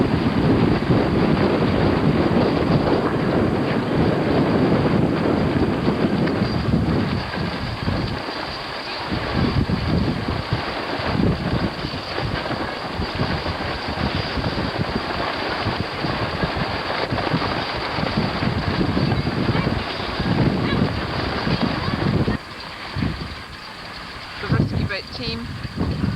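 Strong gusting wind roars across the microphone with surf and waves on open water during a 1991 fleet sailboat race, steady and loud throughout with brief dips near the end.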